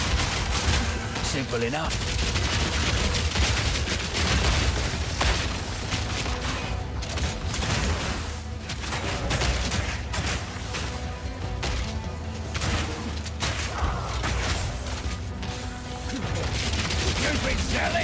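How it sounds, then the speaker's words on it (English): Cluster grenade explosions in Path of Exile 2, a dense, sustained barrage of booms and crackling blasts under continuous game noise, with someone speaking briefly over the din. "Cluster grenade."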